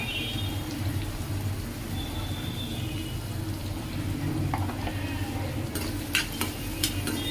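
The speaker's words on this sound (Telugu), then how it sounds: "పసుపు వేసుకొని ఇంకా బాగా కొంచెం బ్రౌన్ కలర్లోకి వచ్చేలాగా కూడా వేయించుకోవాలి" Onions with turmeric fry in a pan with a steady sizzle, while a spoon stirs and scrapes, clinking more sharply near the end.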